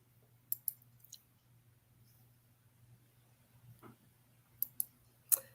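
A computer mouse gives a few faint, sharp clicks, singly and in quick pairs, against a quiet background with a low hum.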